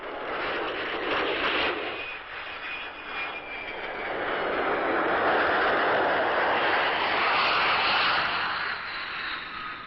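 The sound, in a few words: F-100 jet aircraft returning after strafing strikes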